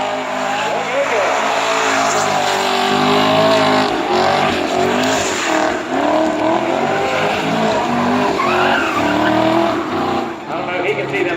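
Car burnout at a 2019 Eve of Destruction burnout competition, a loud continuous engine roar with screeching tire squeal running throughout, with crowd noise and an announcer's voice mixed in.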